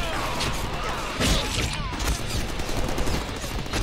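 Dense gunfire in the Deadpool video game, a continuous loud barrage of overlapping shots with crashing impacts, close and busy throughout, with some talk mixed in.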